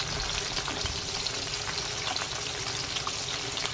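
Galunggong fish frying in a pan makes a dense, steady sizzle with constant crackling and popping oil, close and unbroken throughout with no voices.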